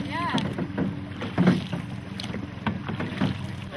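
Canoe paddles dip and pull through lake water in a shared rhythm, giving soft repeated splashes and strokes under steady wind noise, with faint voices drifting in.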